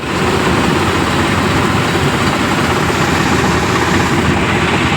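A harvesting machine runs in a wheat field, giving a loud, steady engine drone with a dense mechanical roar that stays constant throughout, with no talking.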